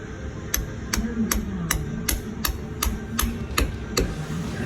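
A hammer strikes a bolt packed with bread to drive out a pilot bushing, about ten sharp metallic blows in an even rhythm, close and loud over a low background rumble.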